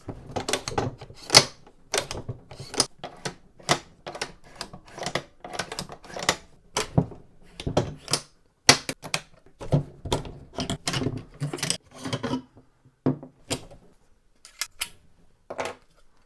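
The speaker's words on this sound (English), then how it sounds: "pulling the bolt back doesn't feel as smooth as on the Gen 1" Repeated sharp metallic clicks and clacks from working the bolt of an APC223 rifle, a close, irregular series of mechanical snaps with brief pauses between them.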